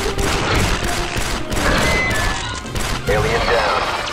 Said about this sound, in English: Geonosian Elite, watch out for the lasers